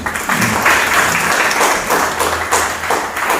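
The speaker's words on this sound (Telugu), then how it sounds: "Please clap." An audience at a local gathering in Nandyal claps together, a dense, loud round of hand clapping that keeps going steadily with faint thumps mixed in.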